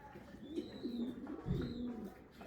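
Uzbek pigeons coo softly in low, rolling phrases, two drawn-out coos heard faintly with a steady background hiss and quiet speech.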